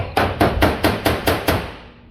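A worn panel beating hammer used as an ordinary hammer strikes metal seven times in a steady rhythm, each blow sharp, loud and close, ringing briefly before the next, while restoring sills on a classic car.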